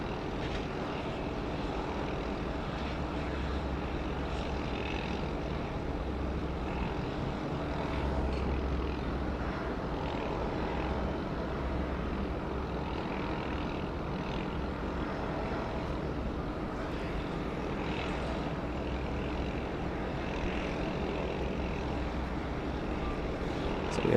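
Sustained far-off jet rumble from a Qantas Boeing 737-800 on runway 34 left at Sydney Airport, a broad even roar with slight swells lasting the whole stretch, no voices.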